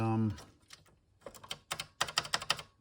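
Keys on an Atari 800 computer keyboard are typed in short bursts of clicky presses, sparse at first then a quicker run of several taps near the end, close up.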